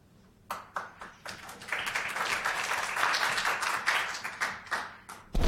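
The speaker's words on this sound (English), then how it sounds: "I'll take applause anytime I can get it" Scattered clapping from a small audience welcoming a medical director moderator at a group discussion session, starting with a few separate claps, swelling into brief applause, then thinning out again.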